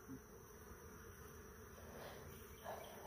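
Honey bees buzzing around beehives on a first beekeeping outing, a steady close swarm drone that holds level for the whole stretch, with no talk.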